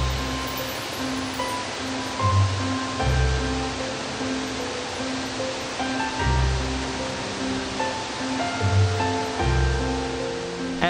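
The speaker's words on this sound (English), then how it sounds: "At 75 feet tall, it's the 8th largest waterfall in the state in volume of water" Cummins Falls, a 75-foot waterfall in a Tennessee state park, roars with a steady, loud rush of falling water, while faint low tonal music sounds underneath.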